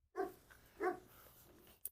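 A young dog barks excitedly: two quick, close, loud yaps with a short squeak at the end and no talking.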